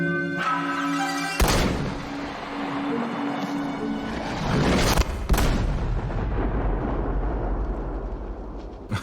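A muzzle-loading rifle with a rifled barrel fires a conical bullet on an Idaho elk hunt, one sharp loud crack followed by a rolling outdoor echo, then a second sharp report rings out a few seconds later.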